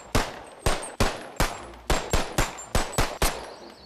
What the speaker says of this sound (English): that is the Glock 19